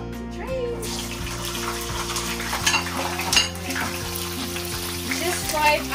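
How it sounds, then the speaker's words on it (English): Soto Betawi ingredients fry in hot oil, giving a steady crackling sizzle with stirring clatter, and a constant background hum underneath. "the first step is frying all this, the first ingredient here on the plate. We're gonna fry with the oil here."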